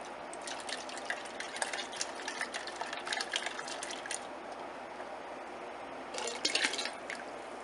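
Water sloshes and trickles as a cooking pot is rinsed out while making rum in a home kitchen, a quiet spattering with a brief louder splash near the end.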